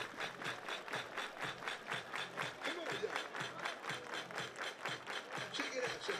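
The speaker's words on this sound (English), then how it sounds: "Everybody clap your hands." At an IBL playoff baseball game, Welland Jackfish vs. Toronto Maple Leafs, the ballpark crowd claps in unison. The claps are steady, evenly spaced and moderately loud, running continuously with no talk.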